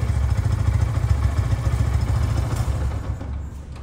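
A 2023 Yamaha FZ motorcycle with about 2,700 km on it runs close by, its engine giving a steady, low, pulsing rumble that eases slightly toward the end.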